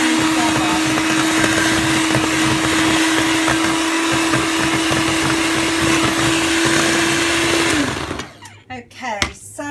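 Electric whisk churning oatbran into butternut squash cake batter, a loud steady motorized whir with a constant hum that runs for about eight seconds, then cuts off into brief clatter and quiet.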